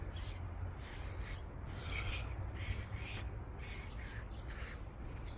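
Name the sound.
sander sanding wooden deck board edge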